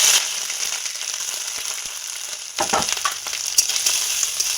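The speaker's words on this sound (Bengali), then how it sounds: "তেলটা আমার গরম হয়ে গেছে প্রথমে দিয়ে দিচ্ছি কোরানো নারকেল" Grated coconut drops into hot oil in a pan, sizzling steadily and then flaring into a louder, crackling fry midway, heard close with no talk.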